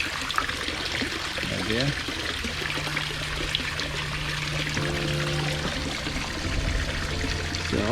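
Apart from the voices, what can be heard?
water trickling through pond bypass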